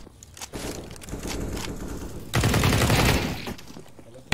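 Bursts of automatic gunfire in a team shooter video game, rapid rattling volleys that swell louder in the middle, with a sharp burst cutting in at the very end.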